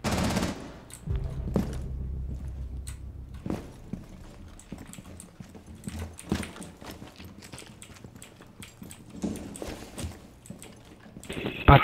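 Scattered bursts of gunfire in the video game Rainbow Six Siege crack and pop at varying distances, with sharp isolated shots and short rapid volleys, fairly quiet overall.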